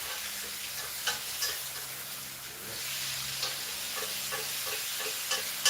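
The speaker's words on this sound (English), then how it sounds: "we're basically frying it in the butter" Steak frying in butter in a pan, a steady close sizzle with light crackles and pops scattered throughout, no talking over it.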